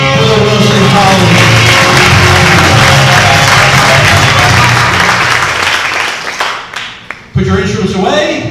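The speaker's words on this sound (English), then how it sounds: "A round of applause for the Wilson College." A college event crowd breaks into loud, close applause mixed with cheering and music-like tones, then thins out and briefly dips before a fresh burst of clapping at the end.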